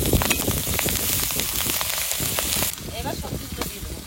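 Slit green chillies dropped into hot oil, a loud dense crackling sizzle that fills the clip and eases slightly toward the end.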